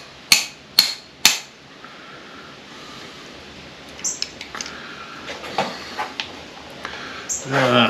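Three loud, sharp metallic hammer strikes in quick succession at the start, knocking a pin on a Ford F350 Super Duty shift tube, followed by quieter clinks and handling noises from working on the steering column.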